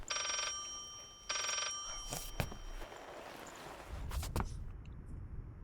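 An old telephone rings in the horror game Layers of Fear: two bright, buzzing bell bursts with a short gap, followed by hollow thuds and faint footsteps in a quiet room.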